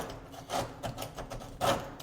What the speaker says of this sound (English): So we need to chisel it all out.